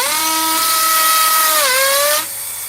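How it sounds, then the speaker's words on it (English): A cordless power drill set to hammer mode with an 8 amp power pack whines loudly and steadily as it bores a hole, its pitch sagging under load and then rising before the motor winds down. "they say this drill's much faster in hammer mode"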